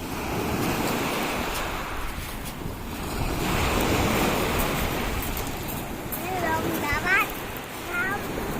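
Sea waves wash continuously onshore, steady and broadband with wind noise buffeting the microphone; a few faint chirping bird-like calls surface briefly near the end, with no talk over the surf.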